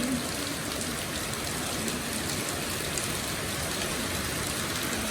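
Heavy rain pours down steadily as a loud, unbroken roar of drops with no pauses and no voices.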